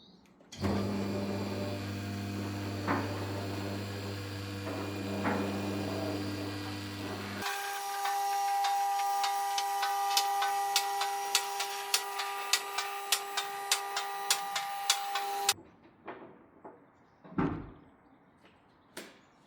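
A car lift raises a stripped BMW E31 850i chassis. A deep, droning motor hum gives way to a higher, steady whine with regular clicking ratchet ticks, then the lift stops and a few clunks follow.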